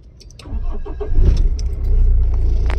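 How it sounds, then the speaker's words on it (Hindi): A Mahindra Scorpio with an accelerator fault and code P2264 starts up after a few clicks and jangles, then its engine settles into a loud, close, steady running rumble with a slight rise in revs. "गाड़ी आपको रेस करके दिखाता हूँ पूरा"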